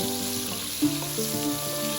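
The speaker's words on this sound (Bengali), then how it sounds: "এরপর পটলগুলো আমি তেলের মধ্যে অল্প অল্প করে ভেজে নেব।" Pointed gourd (parwal) pieces fry in hot oil with a steady, close sizzle running throughout, broken by a few brief crackles and pops, with no voices.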